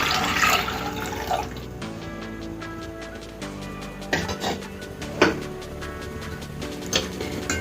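Water splashes and pours into a pressure cooker, three cups measured in, amid clinks and knocks of kitchenware, the pouring rising in short bursts; no one speaks.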